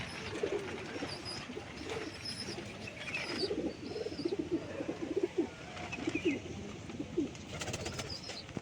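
Pigeons, including a female, coo repeatedly in soft low phrases amid ambient outdoor noise, moderately close and without speech.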